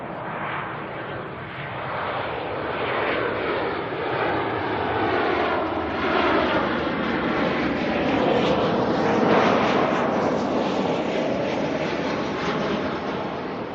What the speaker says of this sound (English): we have Qantas 143 in from Sydney, the 737-800